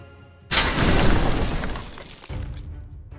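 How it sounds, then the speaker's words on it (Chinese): A rusty iron door on a rooftop smashed apart, rendered as a sudden loud crash of breaking, shattering debris that rings out and fades, then a second smaller clatter. "天台上锈迹铁门被人撞得支离破碎"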